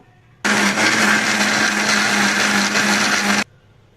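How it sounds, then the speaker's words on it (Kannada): A kitchen mixer grinder grinds spices, including coriander powder, with a little water into a fine paste for okra and potato sambar. It whirs loudly and steadily for about three seconds, starting and stopping abruptly. "ಒಂದು ರೌಂಡ್ ತಿರುಗಿಸಿದ ಮೇಲೆ ಸ್ವಲ್ಪ ನೀರನ್ನೇ ಹಾಕಿ ನುಣ್ಣಗೆ ರುಬ್ಕೊಳ್ಳೋಣ"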